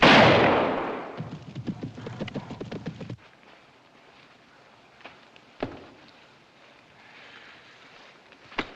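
A single hunting rifle shot cracks loudly at the start and booms away over about a second, followed by scattered clattering thuds and quieter background noise.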